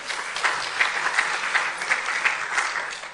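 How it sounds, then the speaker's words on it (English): An audience at a 2019 Women in Environmental Sciences event applauds a thanked guest: steady, dense clapping from a full room, fairly close and even throughout, with no talk over it. "please, can we give her a round of applause?"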